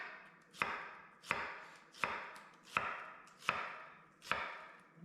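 Six evenly spaced knife strokes roughly slicing a peeled onion on a cutting board, each a crisp chop with a short trailing fade, close and clear with no talking.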